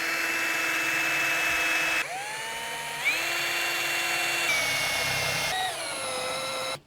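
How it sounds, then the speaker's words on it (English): A power drill bores a drainage hole through the bottom of a plant pot, its whining motor pitch rising and falling in several separate bursts, close and steady, with no talking. "I want to create more drainage in the bottom of our pots. And to do this, I'm just going to be drilling a hole in the bottom."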